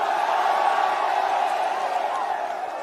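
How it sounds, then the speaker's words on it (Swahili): A large crowd at a political rally in Meru roars and cheers in a sustained wash of voices, loud and continuous before easing off slightly at the end. "mpigeni makofi"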